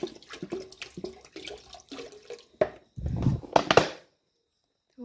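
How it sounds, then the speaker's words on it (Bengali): Water is poured into a cooking pot to heat, heard as close splashing and gushing in uneven bursts with clatter, ending in a louder pour before quiet. "জলটা দিয়ে দিই জলটা গরম হতে থাকুক"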